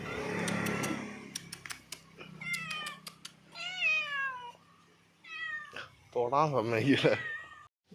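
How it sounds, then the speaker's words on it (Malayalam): A kitten meows several times, high and wavering, with a person talking before and between the cries. "പിന്നെ നമ്മളെ പൂച്ചക്കുട്ടി ഇതാ അവിടെ എത്തി"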